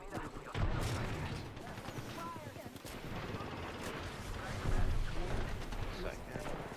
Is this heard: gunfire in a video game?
yes